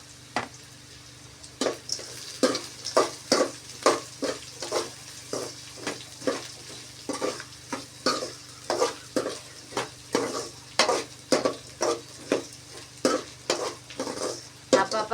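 Sliced bitter gourd frying in a pan, stirred again and again with a utensil that scrapes and taps in a steady rhythm of strokes over a soft sizzle, close and fairly quiet, no voices.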